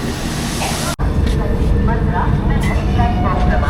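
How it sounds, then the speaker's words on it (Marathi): A local train pulls out of a station at the start of a Pune to Katra rail journey, giving a steady broadband rumble with a brief break near the start and light clatter above the low roar. "चल ही ट्रेन निघेल आपली बाबा"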